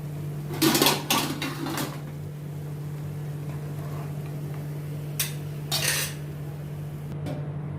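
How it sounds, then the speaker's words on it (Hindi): Golden-brown fried baby potatoes are tipped from a pan onto a plate at home, giving a few short clattering clinks of metal on dishware near the start and again midway, with a steady low hum underneath. "अभी इनको मैं प्लेट में ट्रांसफ़र करती हूँ।"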